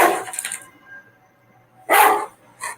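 A dog indoors in a living room gives a few loud, close barks: a quick cluster at first, then a single sharp bark and a shorter yip after a pause.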